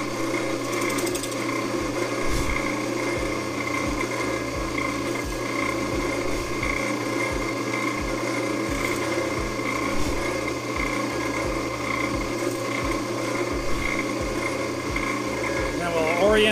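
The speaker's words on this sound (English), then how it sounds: "we will drill 5 holes all the way around on this one" Power drill boring holes into a wooden yard dice, a steady motor whine running continuously through the stretch with slight load changes as the bit cuts, while a person talks over it.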